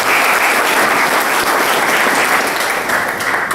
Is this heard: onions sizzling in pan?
no